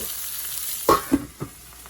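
Lamb chops frying in a covered pan give a steady, fairly loud sizzle, broken by three quick clattering knocks, likely the lid or pan, with no one speaking.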